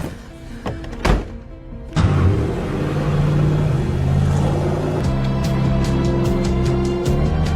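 A car drives through a snowy region in a film, with a door-like thunk and sharp knocks giving way to a steady engine rumble and road noise, loud and close.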